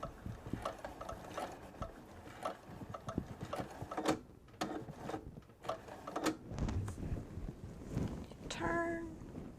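A sewing machine stitches quilt fabric in short bursts of rapid mechanical clatter, pausing and restarting as the seam nears a corner, fairly quiet and close.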